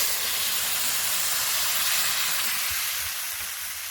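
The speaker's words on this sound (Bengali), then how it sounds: "তরকারিটা ভাজা ভাজা হয়ে গেছে এইবার আমি জল ঢেলে দেবো" Water poured into a pot of frying vegetable curry sets off a loud, continuous steamy hiss and sizzle that eases off slightly toward the end.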